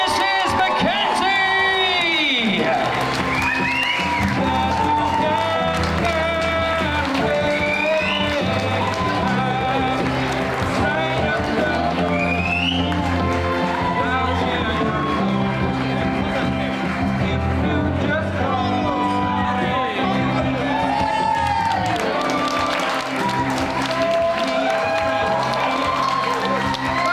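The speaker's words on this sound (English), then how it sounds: "give them a massive round of applause as they enter the room to cut their cake" Wedding guests cheer, whoop and shout as the newly married couple enter the reception room to cut their cake, a loud, dense crowd roar that runs steadily throughout.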